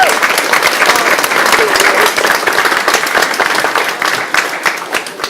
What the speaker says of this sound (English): Round of applause for David Pittard.